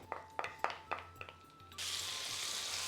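Butter hits hot oil in a pan for a Mughlai desi-style curry, first with a few sharp spitting crackles and then a steady, bright, close sizzle.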